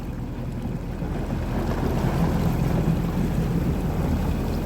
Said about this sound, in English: Right out here on the skis in the Atlantic Ocean, right outskirts of Mar-a-Lago